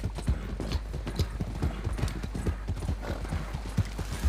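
Horse hooves clip-clopping at a steady trot in the Red Dead Online video game, a rapid continuous beat of soft thuds with no talk over it.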